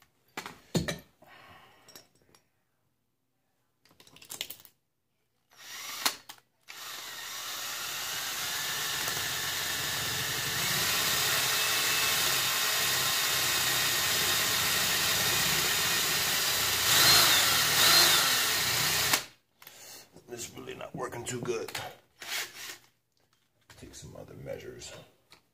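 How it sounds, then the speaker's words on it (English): A small drill bit cuts a slot into a part of an RC Rustler transmission gear, giving a steady mid-pitched whirring drone for about twelve seconds, framed by spoken explanation before and after. "We're going to use the same drill bit and just kind of like work our way in there and go across to the other side"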